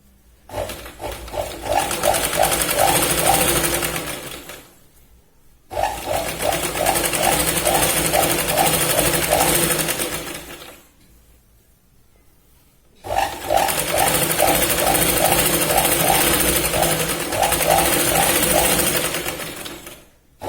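A sewing machine stitches a side seam on a Punjabi dress cut from a sari. It runs in three long, steady bursts with rapid needle chatter, separated by brief pauses.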